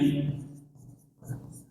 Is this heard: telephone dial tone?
no